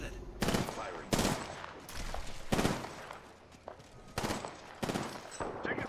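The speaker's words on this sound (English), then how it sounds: "Target spotted. Firing." Bursts of automatic gunfire in the Apex Legends video game, several loud rapid volleys separated by short pauses, close and sharp.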